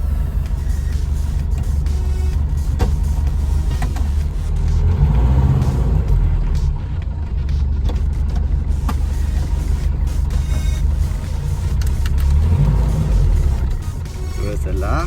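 An old Ambassador car with a column gear shift idles and drives with a low, steady engine rumble and occasional clunks, under near-continuous talking.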